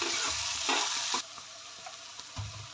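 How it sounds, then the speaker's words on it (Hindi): Onions and green chilies sautéing in a pan give a close, bright sizzle with a few stirring scrapes. The frying is loud at first, then settles into a quieter crackle. "इसमें अनियन ऐड कर देते हैं, ग्रीन चिलीज ऐड कर देते हैं और अच्छे से इसे सॉटे करेंगे"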